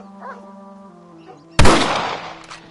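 A single loud rifle shot in the Western video game Red Dead Redemption, a sharp close blast with a decaying rumble tail that cuts through a steady low in-game hum.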